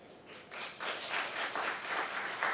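An audience at a tech expo startup pitch applauds, a steady wash of clapping that swells after a quiet start and holds, moderately distant.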